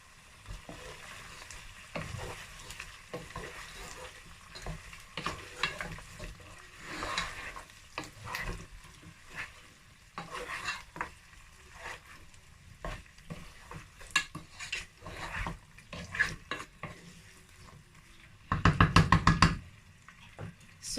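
Boiled meat added to a pot of Nigerian edikang ikong soup and stirred, with soft simmering, intermittent spoon knocks and scrapes against the pot, ending in a brief loud clatter.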